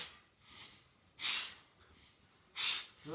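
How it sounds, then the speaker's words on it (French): Forceful breaths during a kundalini kriya exercise, three loud hissing exhalations about 1.2 seconds apart with softer inhalations between, close and alone. "Puissante la respiration."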